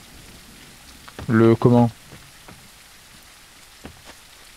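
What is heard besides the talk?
rain falling in video game No One Survived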